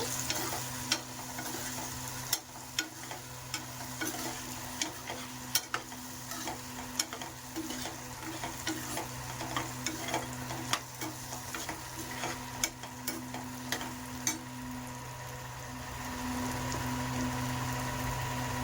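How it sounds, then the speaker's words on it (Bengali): Potatoes frying in a pan with turmeric, stirred with a utensil: a soft steady sizzle broken by regular light scraping ticks, faint and close, with no speech. "হলুদ দিয়ে একটু নাড়াচাড়া করব"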